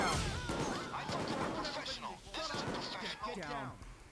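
Rapid gunfire in the video game Payday 2 during a heist shootout, with crackling shots and crashes tumbling over one another at low volume, while voices talk over the action.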